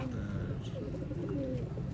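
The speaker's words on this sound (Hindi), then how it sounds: "ये हैं बटेरे, बहुत म्यारी कबूतर है।" Sialkoti Batera pigeons cooing close by, low soft repeated coos over a faint background murmur.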